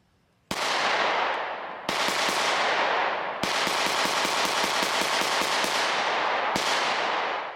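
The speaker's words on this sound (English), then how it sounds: "We're not shooting the most expensive ammo in the world" Repeated gunshots from a Taurus TS9 pistol fired with inexpensive ammunition, loud sharp reports with ringing decay: single shots, then a rapid string of about a dozen evenly spaced rounds, then another single shot, no talking.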